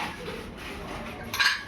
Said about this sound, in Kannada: ಹಿತ್ತಾಳೆ ಸಾಮಾನ ತೊಳಿತಾ ಇದ್ದಾಳೆ